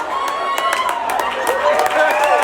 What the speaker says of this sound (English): And the crowd, of course, is excited that she's being carried out